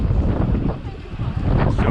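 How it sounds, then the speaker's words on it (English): Strong wind buffets the microphone on a New York City street during a bike ride, a loud, rumbling low roar that swells and dips continuously. "It's so windy, I basically can't hear anything that anybody's saying."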